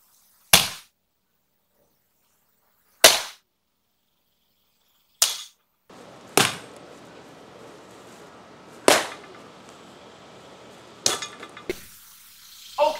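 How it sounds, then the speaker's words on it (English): A late Roman spada sword strikes lamellar armor plates in a testing setup, giving about seven sharp, ringing metallic impacts spaced a few seconds apart, loud and close, with a faint rustle between later hits. "Now we're going to try my late Roman spada."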